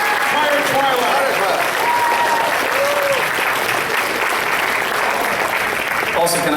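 Sustained audience applause at a fan convention's live stage show, a dense steady wash of clapping from a large crowd with brief whoops and voices rising over it.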